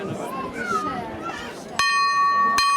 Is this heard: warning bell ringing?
yes